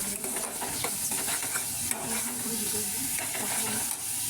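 Spice paste splashed with a little water sizzles and spits in hot oil in a pan as it is stirred, a loud, dense hiss in the foreground with quick scraping strokes of the spoon and no one speaking.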